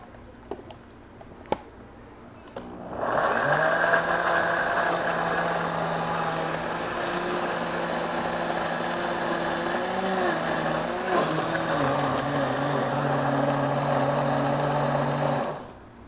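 A food processor whirs steadily for about twelve seconds as water and olive oil are emulsified, its motor pitch sagging briefly near the end before it stops; no one speaks.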